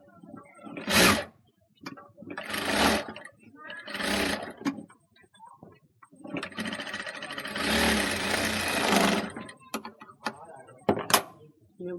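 A sewing machine stitching a kameez neckline runs in short bursts of rapid, close mechanical whirring, then in one longer run, with quiet pauses between.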